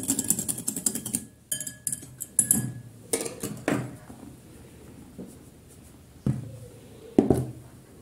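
Yogurt bread dough being stirred in a bowl while flour goes in, giving scattered clinks and scrapes of a utensil against the dish, close and fairly quiet, with short bursts separated by pauses.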